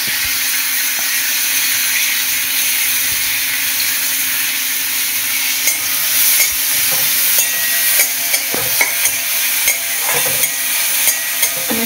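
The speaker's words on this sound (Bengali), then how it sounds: "পেঁয়াজটা একটু হালকা ভেজে নেবো।" Onions frying in butter in a kadai, a loud continuous sizzle close up, with occasional scraping stirs and clicks growing more frequent toward the end.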